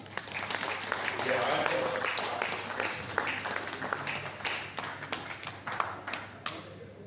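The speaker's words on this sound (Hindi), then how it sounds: "एक बार भरपूर तालियां बजा दीजिए" At a humorous shayari poetry gathering in Siwan, Bihar, the audience keeps up steady, crowded applause throughout, with sharper individual claps popping out over a low hum in the hall.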